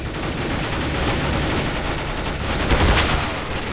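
Dense automatic gunfire in Counter-Strike: Global Offensive, a loud continuous fusillade of rapid shots with no pause throughout.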